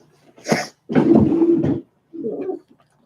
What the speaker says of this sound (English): let me see that dog that's making all those weird noises